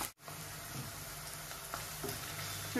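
Onions fry in hot oil for an egg tomato curry, giving a steady, close sizzle and crackle that stays even throughout, with faint stirring touches and no voices.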